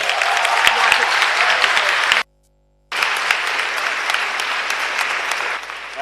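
An audience applauds at a conference opening ceremony, with dense, loud clapping that breaks off briefly into silence and then resumes strongly to the end.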